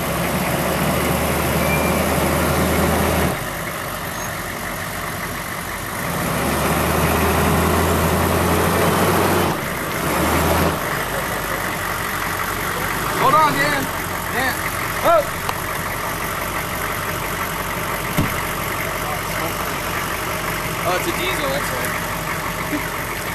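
Diesel truck engine idling nearby, a low steady rumble that rises and falls in level with a few short gaps, while people talk at intervals.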